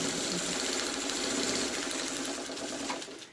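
A sewing machine runs continuously at speed, stitching quilt block pieces with a steady, dense mechanical whir and rattle that slows and fades at the end.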